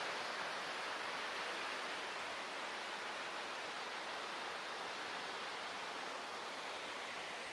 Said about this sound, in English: here's that beautiful waterfall.